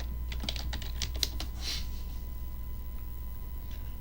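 Keys tapped on a computer keyboard while entering a server username and password, a quick cluster of close clicks in the first half, then a quiet hum with a faint stray tap.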